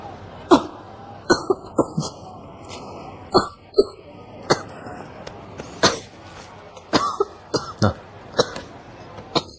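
Someone coughs while eating, repeatedly in short, harsh bursts, with a few throat-clearing sounds between them, close and loud.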